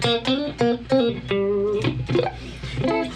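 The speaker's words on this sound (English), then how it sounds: "So that's your funk guitar sound." Funk guitar playing short rhythmic chugging stabs, a run of clipped, percussive strums with a few sustained notes, close and fairly loud with no talking.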